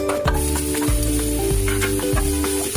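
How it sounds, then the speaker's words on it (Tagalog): Onion sautéing in hot olive oil in a pan, a loud, continuous close sizzle with repeated stirring scrapes at a steady rhythm. "Ngayon magigisa na po tayo ng onion."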